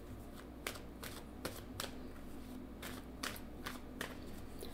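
Tarot cards being shuffled by hand, a steady papery riffle with sharp flicking snaps at irregular intervals, close and moderately quiet against a faint background hum.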